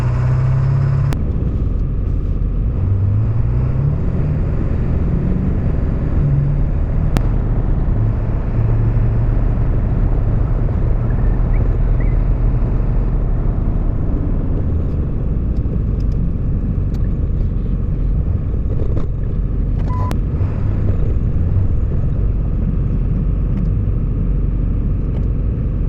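2003 Ford F250 truck driving down the road after ball joint replacement, a loud, continuous low engine and road rumble with a brief rising engine tone early on and occasional small knocks.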